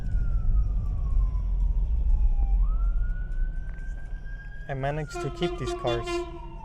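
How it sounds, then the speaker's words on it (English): An ambulance siren wails with a slowly sliding tone over a rumbling engine, then someone shouts and talks loudly over it. "Ambulance!"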